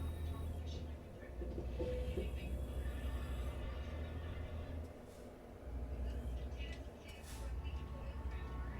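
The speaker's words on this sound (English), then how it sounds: "Now the train went by." A train rolls past in the American Truck Simulator video game, giving a steady, heavy low rumble that swells and dips over several seconds, with a voice talking over it.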